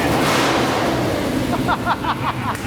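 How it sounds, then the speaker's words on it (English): A rebuilt Chevy square body truck engine rumbles loudly at close range with a rough, choppy idle, and brief voices break in near the end. "that thing idles like a funny car"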